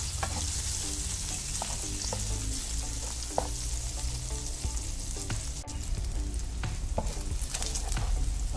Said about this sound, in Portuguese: Deixar ele fritar um pouquinho aqui.